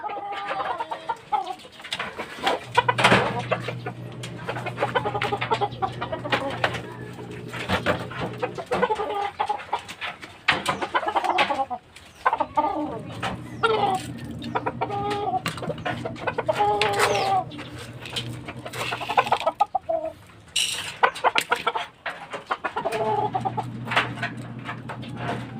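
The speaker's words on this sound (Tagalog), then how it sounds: "Isa nating manok, lugon." Several chickens cluck and murmur nearby, with repeated clucks and a steady low drone in the background.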